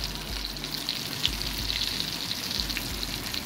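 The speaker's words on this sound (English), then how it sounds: "It's just slowly sizzling away in the oil." A burger patty frying in hot oil in a pan, giving a steady, gentle sizzle with soft crackling pops throughout, close and continuous with no talking.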